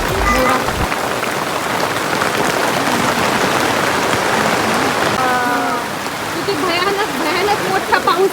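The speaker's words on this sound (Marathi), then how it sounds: "सडनली आम्ही वर आलो आणि पाऊस सुरू झाला" Sudden rain pours down outdoors as a steady, loud hiss of drops on surfaces, with faint voices and a few bird-like calls showing through the wash near the end.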